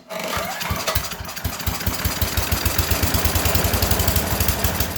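A small carbureted engine sprayed with carb cleaner cranks and sputters loudly nearby, its rapid pulsing firing speeding into a steady chugging rhythm as it tries to catch.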